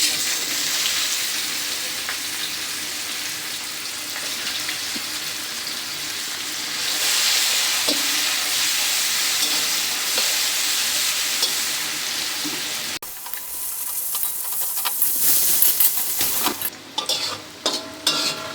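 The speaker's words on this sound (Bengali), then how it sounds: "বন্ধুরা পেঁয়াজগুলো সুন্দর করে ভেজে নেবেন।" Onions fry in prawn-frying oil with cardamom, cinnamon and bay leaves, a steady, close sizzle with soft stirring. A sharp break comes near the middle, followed by louder, choppier scraping and clatter toward the end.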